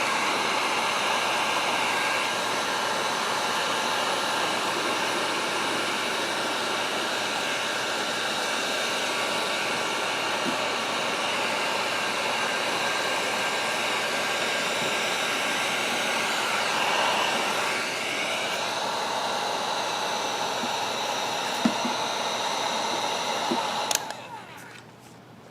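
A heat gun blows continuously and close to dry moisture trapped under smoked tint film on a Bronco Sport lens. The steady whooshing hiss holds for nearly the whole stretch, then cuts off near the end.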